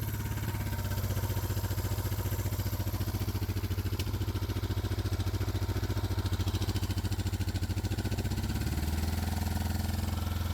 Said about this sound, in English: so my idle is set too high, which we figured